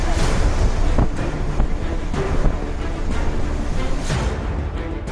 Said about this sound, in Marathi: मांडवी किनारपट्टीवर 4 मीटर उंचीच्या लाटा उसळत होत्या।